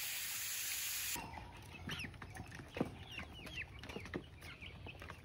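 Chicks and three roosters cluck and chirp in scattered bursts, close and fairly clear after a short stretch of steady background noise, with no talk.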